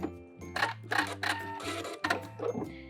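A sewing machine runs in short, close bursts while back stitching a seam on a beginner tank top, its motor whirring in quick stop-start pulses.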